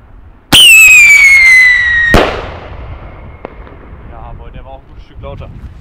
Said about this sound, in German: Der hat auch so einen geilen Schweif, hat ein richtig, also ziemlich lautes Pfeifen und er hat einen etwas lauteren Knall